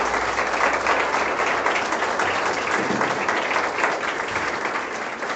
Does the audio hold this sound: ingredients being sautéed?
no